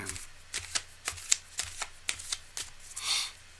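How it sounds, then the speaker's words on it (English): A deck of cards is shuffled up close in a quiet room, a series of quick crisp riffles and soft slaps in an uneven rhythm, ending in a longer whooshing bridge. "One more shuffle."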